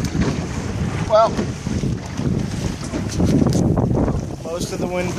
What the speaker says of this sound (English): most of the wind gust is over